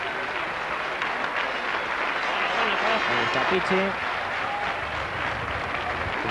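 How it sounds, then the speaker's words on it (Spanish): A stadium crowd applauds a substituted footballer during a 1997/98 CD Ourense vs Sevilla CF match, steady broad clapping and crowd noise continuing throughout under a commentator's voice. "Seguro que van a aplaudir al jugador gallego."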